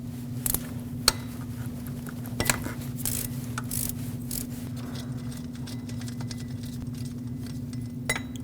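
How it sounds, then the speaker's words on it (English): A ratchet with a 14 mm socket removes the idler pulley bolt while a water pump is being replaced on a 2006-2015 Lexus IS250: scattered faint clicks and clinks over a constant low hum. "Using a 14 millimeter socket,"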